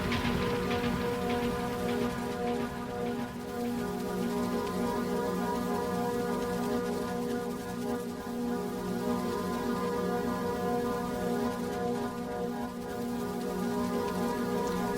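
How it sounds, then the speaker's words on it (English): Rain patters steadily through a music track, a continuous hiss of drops layered under sustained tonal chords and instruments that hold at an even level throughout. "I'm noticing that there's rain sound again, like there was to start with."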